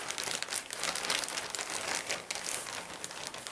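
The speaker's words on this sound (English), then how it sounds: "Now take one Ziploc bag or any plastic bag, okay, and just keep it inside." Loud, continuous crinkling of a plastic Ziploc bag being handled close up while storing fenugreek leaves, rustling steadily for a few seconds with no voices.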